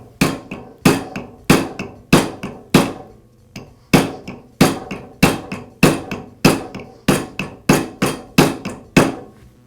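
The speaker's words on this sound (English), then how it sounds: "I'll just use my rubber mallet and carefully tap the bearing onto the shaft until it seats against the" A rubber mallet taps a bearing onto the armature shaft of a DeWALT chop saw, about fifteen loud, sharp knocks in a steady rhythm, each ringing briefly, close and alone.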